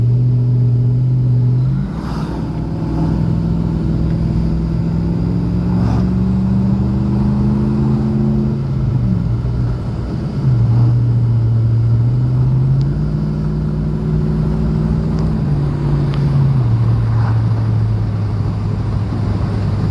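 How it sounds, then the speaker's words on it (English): Dodge Ram engine running loud and close, a steady rumbling idle with its pitch rising and falling through several slow rev swells and no speech over it. "Listen to that motor."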